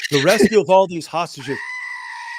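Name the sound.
goat bleating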